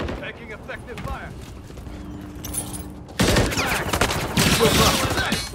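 Gunfire in a Call of Duty: Modern Warfare III match on Highrise, scattered shots that build into a loud, dense volley halfway through, with in-game voice callouts mixed in.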